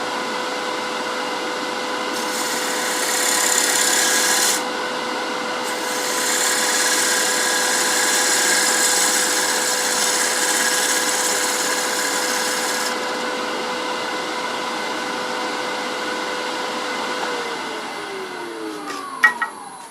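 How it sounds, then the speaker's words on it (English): A wooden bowl spinning on a lathe while a smaller gouge cuts it, giving a steady whirring hum with a broad hissing scrape that starts and stops in several long passes, followed by a few faint clicks. "switch to a smaller gouge."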